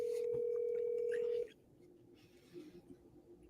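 A telephone call being placed: a steady dial tone holds for about a second and a half, then cuts off, leaving faint line noise with a soft click or two. No one speaks.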